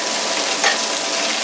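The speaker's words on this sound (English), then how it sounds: "colours the skin while you're frying from below" Pollock fillet frying in butter in a pan, giving a steady, close, continuous sizzle with crackle throughout and no talking.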